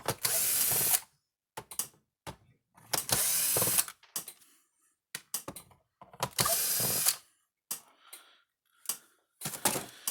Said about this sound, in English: But let's take the screws out of it.